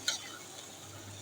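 Beef spleen bhuna fries gently on the stove under a soft steady sizzle, opened by one quick scrape or clink of a stirring spoon, then quiet frying alone.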